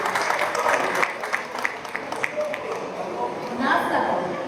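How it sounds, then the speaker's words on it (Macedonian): An audience at a literary gathering honouring an author's 65th birthday applauds, with scattered clapping and a crowd murmur mixed with voices, fairly close and moderately loud. "Еден силен аплауз."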